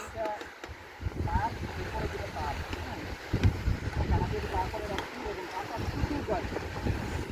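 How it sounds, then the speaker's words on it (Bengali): Strong wind buffets a microphone on a hanging bridge, a continuous rumbling roar with gusty surges, while people talk and call out over it. "এত বাতাস কে রে ভাই এর মাঝখানে"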